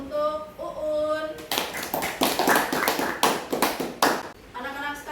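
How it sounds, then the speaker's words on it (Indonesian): Children in a classroom break into a burst of applause for a classmate, several seconds of clapping following a short stretch of voices. "Uun, berikan aplaus untuk Uun."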